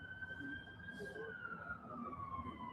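Police car sirens wail faintly in the distance, the tone slowly sliding, under a low murmur of street noise.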